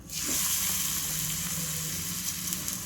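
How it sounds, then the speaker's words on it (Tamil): Finger-millet (ragi) adai frying in oil on a hot dosa griddle, giving a steady, close sizzle with a hissing crackle that holds throughout, with no talking. "தோசைக்கல்லை வச்சு அதில் எண்ணெயை ஊற்றி வச்சிடலாம் நம்ம தட்டி வச்சுருக்க கேழ்வரகு அடைய அதில் போட்டுடலாம்"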